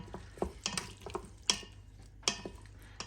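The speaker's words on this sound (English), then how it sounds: "So just give it a good stir" A spoon stirs a honey and thyme glaze over pork in an Instant Pot, giving a series of soft, close scraping and clinking strokes at an uneven rhythm.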